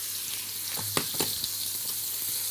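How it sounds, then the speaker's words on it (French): Steady frying sizzle of veal searing in hot oil in a pan, with a few sharp spatters and clicks of utensils. "j'ai mis de l'huile dans la casserole et là je vais faire saisir mon veau"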